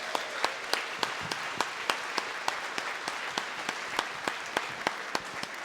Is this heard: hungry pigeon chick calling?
no